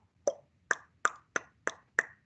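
A voice imitates a click consonant of the Ngosa (Xhosa) language, producing six sharp mouth clicks in a steady, evenly spaced rhythm, close and fairly loud with no talking between them.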